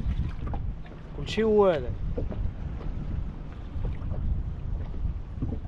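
Wind gusting over a fishing boat at sea, a constant rushing roar and buffeting against the microphone, with someone briefly speaking partway through.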